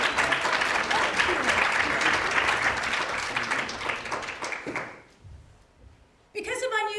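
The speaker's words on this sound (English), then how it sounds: "Give her a huge round of applause." Audience applause at a TEDx university event, a loud sustained burst of clapping that fades out near the end, followed by a short silence before a voice starts speaking.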